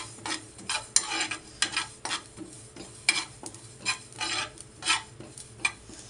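Sesame seeds roast in a pan after peanuts, with a spoon scraping and stirring in a quick, regular rhythm of soft scratchy strokes over a faint sizzle.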